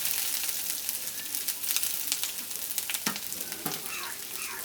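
Chopped garlic and ginger sizzle in a pan of hot oil for mixed fried rice, a bright, crackling hiss with scattered pops and a few louder spatters near the end, close and without voices.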